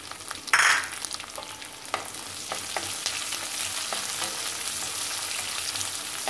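Onions sauté in a pan, a steady close sizzle with scattered ladle scrapes and clinks, one louder stirring clatter near the start.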